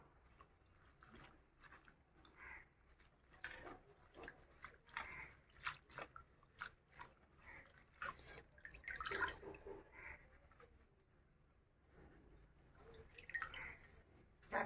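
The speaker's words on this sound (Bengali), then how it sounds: "শাকটা আমি এখন ভালো করে ধুয়ে নেব।" Leafy greens get washed by hand under running water in a kitchen, soft splashes, drips and wet rustling of leaves, quiet and irregular throughout.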